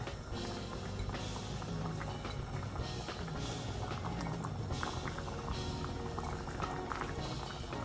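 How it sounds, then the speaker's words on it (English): Chicken and pumpkin soup with dumplings bubbling in a pot brought back to the boil, a steady close patter of bubbling and popping with no voices. "Turn the heat up, actually bring it to the boil again."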